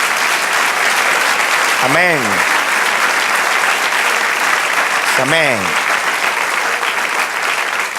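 A church congregation claps in steady applause throughout, close and loud, while a voice briefly calls out twice over the clapping.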